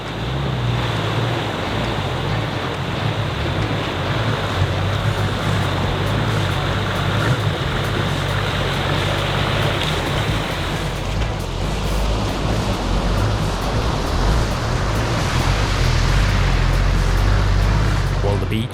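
Surf washes onto a Corsican beach reached by an off-road trail, a continuous, fairly loud roar of waves and wind that swells slightly toward the end.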